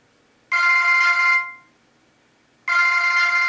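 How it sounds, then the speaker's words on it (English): A mobile phone rings loudly nearby with a bright electronic ringtone, two ringing bursts separated by a brief gap, no voices. "I'm going to dial her phone"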